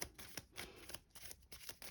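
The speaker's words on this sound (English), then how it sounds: "we give them a bit of a shuffle" Criminal cards from the Jack PnP board game are riffled and shuffled in a quick, soft, rapid patter, close and faint.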